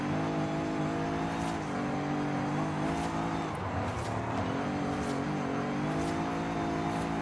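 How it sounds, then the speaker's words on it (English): A steady VR6 car engine drone in the video game Forza Horizon 5, with layered harmonic tones, rising and dipping slightly in pitch, with faint tire noise over a constant hum. "the engine sound for the VR6 just doesn't sound great in this"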